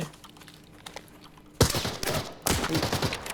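Automatic gunfire in Arena Breakout: Infinite: after quiet keyboard and mouse clicks, two loud sustained bursts of rapid shots hit close and harsh, the second following shortly after the first.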